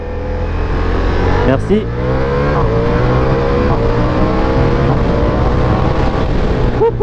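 Ducati Diavel V4 motorcycle accelerating hard with quickshift gear changes, a loud rising engine roar broken by quick shifts and brief dips in pitch, with a voice speaking briefly over it.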